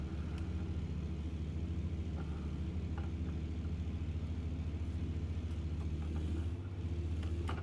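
A big-engined truck in American Truck Simulator labors steadily up a long hill in a low gear, a deep, constant droning rumble with no breaks and no talk over it.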